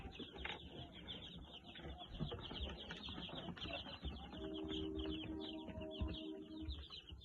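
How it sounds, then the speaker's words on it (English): Dense, continuous peeping from a crowd of day-old chicks, high and busy, with some low background rumble and brief tonal chirps overlapping throughout. "1 day old chickens, and these chickens arrived yesterday"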